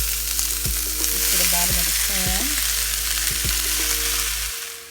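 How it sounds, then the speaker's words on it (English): Vegetables sauté in a few drops of rapeseed oil in a pan, a steady broadband sizzle running throughout, punctuated by several low knocks of a utensil against the pan and a brief tonal scrape. "I like to lightly saute all the vegetables first"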